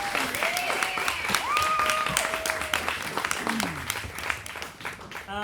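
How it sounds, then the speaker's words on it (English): A festival audience applauds the tech crew, a broad wash of clapping that stays steady for several seconds, with voices and some whistling or cheering mixed in. "a really, really, really big round of applause for our amazing tech who have such a difficult job at this festival"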